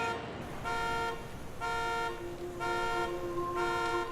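A car alarm trap in the video game Dying Light blares in repeated electronic horn bursts, on and off in a steady rhythm, loud and close.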